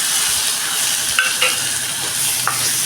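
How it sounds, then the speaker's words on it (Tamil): Tomatoes and green chillies sizzle and fry steadily in a pan, with a few light scraping stirs cutting through the constant hiss. "தக்காளியும் பச்சை மிளகாயும் போட்டு நல்லா வதக்கிடுவோம்"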